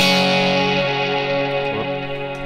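A sustained electric guitar chord played straight into the amp with no pedals rings out loud and washed in reverb, slowly decaying with a shimmering tail.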